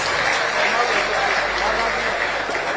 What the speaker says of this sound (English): Let's give all of them a round of applause, please.